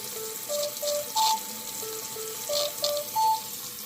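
A Galaxy Watch 6 Classic runs its water ejection routine, giving off a repeating pattern of steady electronic tones that step up in pitch in two identical cycles over a watery hiss.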